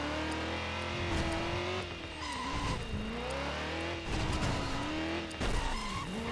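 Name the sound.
car engine in Driver: San Francisco video game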